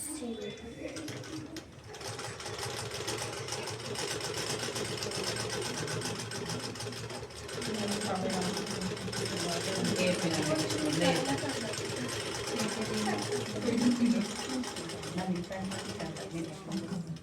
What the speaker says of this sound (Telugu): మెయిన్ క్లాత్ ని రెండు వైపులా మడిచి కుట్టుకోవాలి.